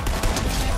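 Drum gun firing rapidly in Fortnite, a dense burst of automatic shots over the whole short span with no clear gaps between rounds, loud and close.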